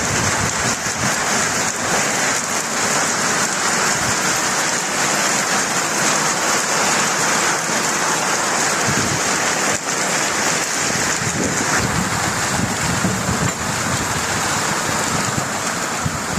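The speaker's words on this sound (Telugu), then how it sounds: "ఫుల్ వాన వస్తుంది." Heavy rain pours down over a village in a loud, unbroken roar lasting the whole stretch, with a few deeper rumbling surges and no voices.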